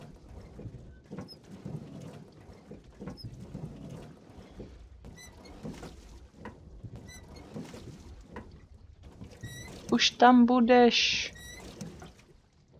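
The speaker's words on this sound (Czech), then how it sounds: "Vrže ti pádlo." A rowing boat's paddle creaking in the video game Cry of Fear, a faint rhythmic creak with water strokes, then a louder squeaky burst near the end, with brief speech early in the clip.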